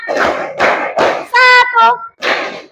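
Children in a classroom clap their hands in a counted rhythm game, several sharp group claps in quick bursts, interrupted by a sung or chanted tonal call in between.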